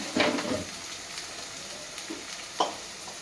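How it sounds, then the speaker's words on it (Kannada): Tomatoes frying in a pan with oil for mandakki chitranna, a puffed-rice dish, giving a soft steady sizzle with a couple of brief stirring scrapes, close and alone. "ಸ್ವಲ್ಪ ಚೆನ್ನಾಗಿ ಫ್ರೈ ಮಾಡ್ಕೊಳ್ಳೋಣ."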